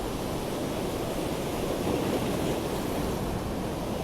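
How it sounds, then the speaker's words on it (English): Sea waves washing against the stepped seafront at Blackpool, a steady broadband rush of surf and churning water that holds a constant level throughout with no voices. "you can see how the steps take the energy out of the waves"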